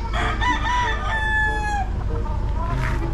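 A rooster crows in a long rising and falling call close by, with faint clucking and farmyard background around it.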